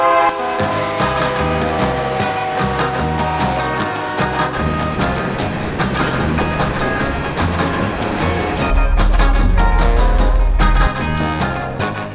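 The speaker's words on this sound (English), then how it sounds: "we have to wait on a frickin' train" A train passes close by, loud and steady, with rhythmic clattering of wheels and a sustained horn blast near the end.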